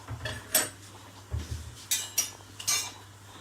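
Metal spoon and spatula clatter against pans and utensils while cooking paratha: a handful of sharp clinks and knocks at irregular intervals over a low steady hum, close and clear.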